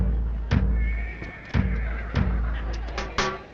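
Horses whinny and snort at a busy annual horse market in a Tamil film scene, several short loud calls repeating at intervals over a constant low crowd and ambient rumble.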